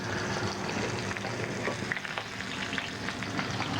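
Breaded shrimp fry in oil in a pan, a steady dense sizzle with crackling pops that runs unbroken throughout, fairly loud and close with no voices.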